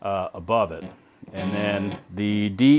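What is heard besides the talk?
None of the usual background noises is heard.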